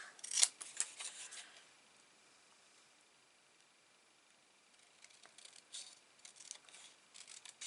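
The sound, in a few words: scissors fussy cutting paper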